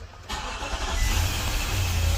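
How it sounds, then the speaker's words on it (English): A 2012 Infiniti QX56 engine cranks and catches after a starter replacement, a brief starter whir rising into a steady close idle rumble. "let's go ahead and hit the starter on this thing and see what happens"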